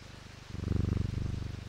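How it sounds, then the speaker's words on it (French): A cat purrs in the video game Lethaos, a soft steady rumble with a rhythmic pulse that swells louder after a moment and continues alone, fairly faint. "Il fait des ronrons, le chat."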